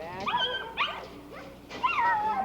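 Little husky puppies in Alaska give several short, high yips and whimpers in quick succession, close by and clear, with no talking over them.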